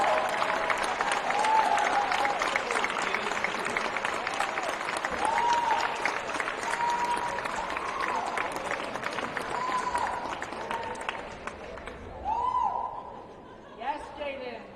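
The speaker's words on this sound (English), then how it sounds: "Starting to clap." Audience applause fills a school athletic signing event at St. Mary's College, a steady crowd clapping with scattered chuckles and voices rising above it, tapering near the end.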